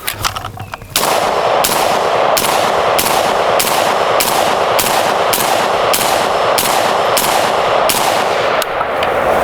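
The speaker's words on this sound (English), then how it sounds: "It's about 10 rounds of a nice slow pace, so that feels pretty good." A rifle, compared as M14 versus M16, fires about ten rounds at a slow, steady pace from roughly 20 yards, each loud, sharp report ringing out alone in an even rhythm.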